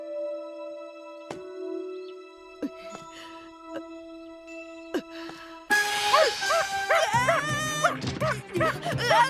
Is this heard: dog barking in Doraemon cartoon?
yes